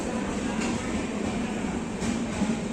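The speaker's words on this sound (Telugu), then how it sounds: "సో ట్రైన్ కూడా స్టేషన్ నుంచి అయితే డిపార్ట్ అవుతుంది" The Bhagyanagar Express departs Jammikunta station with a steady, dense rumble and rolling roar that holds evenly throughout, close by, with no voices.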